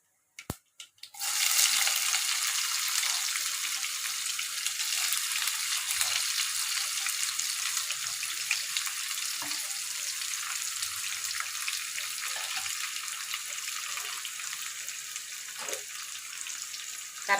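Onions and green chillies drop into hot oil with a sudden onset and then sizzle steadily, a bright, hissing fry that stays fairly even and close, with a few small pops.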